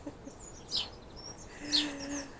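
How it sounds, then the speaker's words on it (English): A small bird chirps near a hedge, two brief faint high calls against quiet outdoor background. "My little bird has come to join me."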